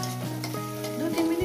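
Tomato frying in a pan for an egg curry, a steady close sizzle with a brief stirring scrape, with no voices.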